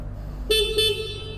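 A Suzuki GSX-S150 motorcycle horn beeps twice in quick succession, a short, bright, nasal honk that sounds close by.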